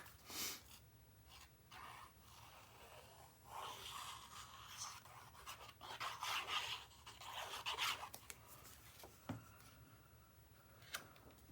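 Paper in a handmade scrapbook mini album is burnished by hand, giving quiet rubbing and scraping strokes with small ticks and clicks in an irregular rhythm, close up and faint.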